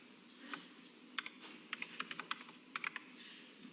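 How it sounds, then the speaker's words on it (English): Keys clacking on the original Apple Macintosh keyboard: a short run of irregular, close clicks and taps, some in quick clusters, over a quiet room hum. "That's the first time I touched the keyboard."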